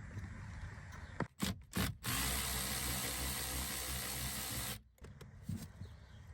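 T30 Torx screws being undone on a BMW F10 535i near the cabin air filter, a few short bursts and then a sustained whirring power-tool drive for about three seconds, close and fairly loud.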